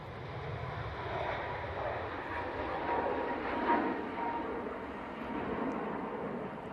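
A steady, distant broadband roar from an Etihad airliner departing Manchester Airport, holding at an even level throughout with no voices over it.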